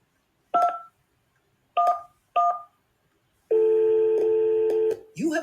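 Electronic telephone keypad tones from a children's baby phone learning app: three short separate beeps followed by a longer sustained dual tone with a few brief clicks, crisp and close.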